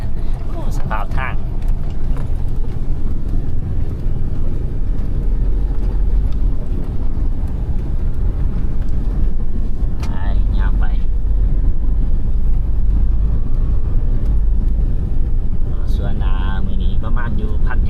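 A car drives along a rough plantation road, its engine a loud, continuous low rumble mixed with buffeting wind and road noise, while people talk inside over it throughout.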